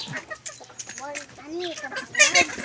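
A farmyard chicken clucks in short, uneven bursts, with bird calls and background voices mixed in around it.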